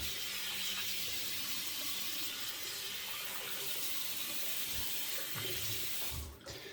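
Water runs steadily from a bathroom tap into a sink while a face is wetted before a shave, a close continuous splashing rush that cuts off near the end.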